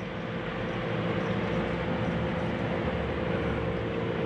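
An Amtrak passenger train passes in Lodi, California, a steady, dense low rumble with a faint tonal hum throughout, continuous and moderately loud, no talk.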